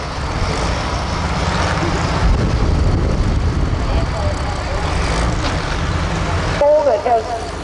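A hot farm tractor roars at an NTPA tractor pull at a county fair in Rushville, Indiana, a loud, steady, dense engine drone with wind-blown rumble, fading slightly near the end as the run winds down.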